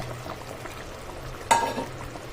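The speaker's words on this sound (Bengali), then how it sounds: "ঝোলটা দেখুন এখানে ফুটে গেছে এবার এখানে আমি মাছগুলো সমস্ত দিয়ে দেবো" Tangra fish curry gravy simmers with a soft, low bubbling hiss, then a brief, louder splash and sizzle rises midway as the fish go in before settling back to a gentle boil.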